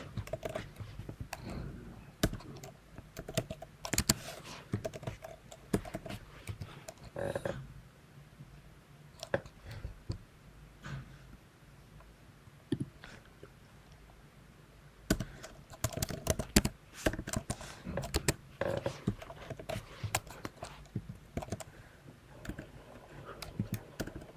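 Bursts of typing on a computer keyboard while entering Flutter code, clustered key clicks that come in busy runs separated by quieter pauses, close and fairly loud with no talking.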